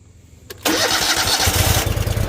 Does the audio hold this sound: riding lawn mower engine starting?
yes